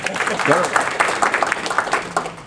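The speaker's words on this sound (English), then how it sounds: "after that round of applause" Audience applause at a corporate conference panel introduction, moderately loud and rippling unevenly, with a voice speaking over it throughout.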